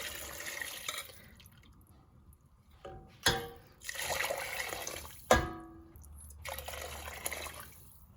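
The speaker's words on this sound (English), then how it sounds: "I'm going to add in 3 pints of vegetable stock." Vegetable stock, about three pints made from stock cubes, pours into a soup pot in several separate splashy bursts with dripping between them, fairly close and alone.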